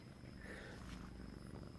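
A pet cat purring close by, a faint, steady, low continuous rumble with no pauses and no speech.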